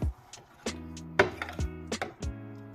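Thick ulundhu kali batter being stirred in a pan on the stove: a series of irregular knocks and scrapes of a spoon against the pan, close and fairly loud, with no talking.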